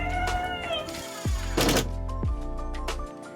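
A cat meows a few times close by, with short tonal cries over a steady mechanical hum and a brief burst of noise between them.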